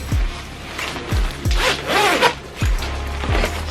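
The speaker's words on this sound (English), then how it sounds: "So we got this zipper right here." Zipper on a Mackage Adali camel coat being pulled several times, each stroke a loud close rasping zip with short pauses between.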